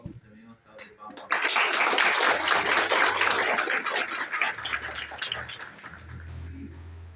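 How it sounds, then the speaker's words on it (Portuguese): Audience applause breaking out at a talk, a sustained dense clapping that swells quickly, holds strongly, then slowly thins out, with a few voices underneath. "Também uma salva de palmas."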